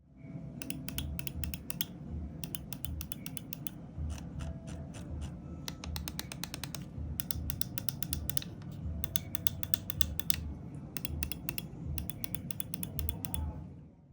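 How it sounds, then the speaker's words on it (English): Rapid bursts of sharp clicks from the optical switches of a Hitscan Hyperlight mouse, mixed with the scroll wheel and side buttons, close and crisp in quick clustered runs over a low steady hum. "let's do a quick sound test of the clicks so that you guys can get an idea of how these optical switches sound"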